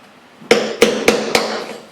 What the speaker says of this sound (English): take a little chisel